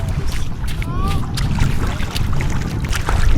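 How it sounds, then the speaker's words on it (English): Cold wind blows outdoors in strong gusts and buffets the microphone, with a steady low rumble that stays loud through the whole stretch and no talking over it. "Oh, it's kind of cold. It's windy."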